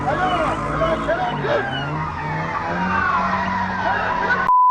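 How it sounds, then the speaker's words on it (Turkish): Loud, throaty 300-horsepower Volkswagen Vento engine with a raspy pop-and-crackle sport exhaust, revving and droning up and down in pitch, close by, with a voice briefly heard over it. "Motor zaten çatlamalı patlamalı olduğu için biraz gürültülü."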